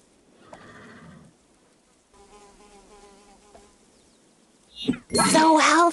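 A cartoon horse in the Barbie's Dreamhouse video game gives short tonal calls over soft game sounds, ending in a sudden loud, bright whinny-like burst.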